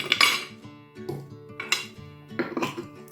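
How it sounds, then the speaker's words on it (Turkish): A spoon stirs lemonade in a pot, giving several separate clinks and scrapes of metal against metal in an uneven rhythm, close up and fairly quiet. "Şöyle bir karıştıralım."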